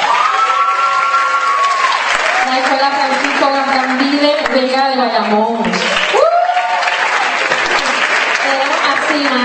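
Audience clapping for visiting schools at a bioscience week event, a continuous bed of applause with some cheering beneath a loud announcer who keeps naming schools throughout.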